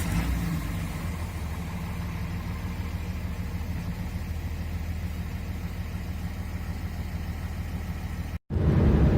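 A 2009 Dodge Ram 2500 with a Cummins diesel and G56 six-speed manual idles with a loud, steady, low rumble, briefly cut off near the end before resuming.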